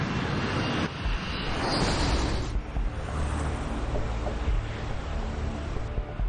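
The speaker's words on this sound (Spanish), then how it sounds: "Ahora el MD-87 avanza a 260 kilómetros por hora y rueda por la pista" An MD-87 jet airliner rolls down the runway at about 260 km/h, giving a loud, steady broadband engine and rolling roar that holds throughout without speech.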